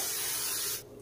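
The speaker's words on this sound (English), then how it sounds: "I spray it with palm spray." A single short hiss of palm cooking spray into a clay tajine pot, close and fairly soft, cutting off abruptly after under a second.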